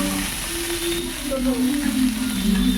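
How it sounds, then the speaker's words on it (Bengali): Vegetables with green chili frying in a pan for a rohu fish, cauliflower and potato curry, with a steady sizzle under a low voice speaking nearby. "সবজিগুলো ভালো করে কষিয়ে নেব"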